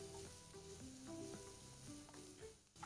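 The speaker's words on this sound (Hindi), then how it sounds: "बस इसको सौते कीजिए।" Mushrooms sautéing in a pan give a steady, close sizzle with occasional stirring scrapes, while faint tonal background sounds run underneath throughout.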